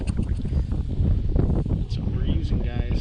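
Wind buffets the microphone in a steady rough roar, with a person talking underneath.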